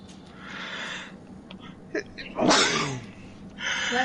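A single sharp sneeze from a person, loud and close, bursting out midway between quieter breathy sounds and faint background noise.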